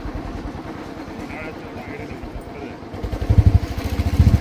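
A motorcycle ride on a cold road near Lonavala, the engine a low steady drone that grows louder and rougher toward the end, with people talking over it throughout.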